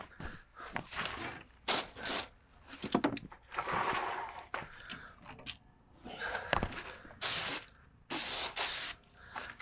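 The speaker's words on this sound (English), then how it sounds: "I'm going to spray behind these pipes, underneath this electrical box." An airless paint sprayer hisses in several sharp bursts of varying length behind pipes and under an electrical box, close by, with handling noises and quiet gaps between them.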